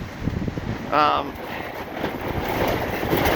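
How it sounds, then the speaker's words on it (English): Strong wind gusts roar across the microphone in a park in Beacon Hill, a loud, broad rushing buffet that swells and surges. A brief voice breaks through near the start. "there it goes again. Biggest wind yet."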